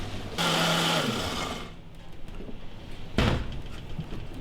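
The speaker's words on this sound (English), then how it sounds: "we're just gonna put all in the blender, and we're gonna make this our curry paste" An electric blender whirs loudly while blending Thai green curry paste ingredients, running for just over a second before cutting off, followed by a quiet pause and a short clunk.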